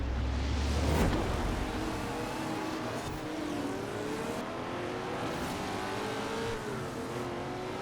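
A Ferrari fitted with a Lamborghini engine races down a quarter-mile strip, its engine revving hard through rising and falling gear pulls, with a loud burst near the start and a steady drone after.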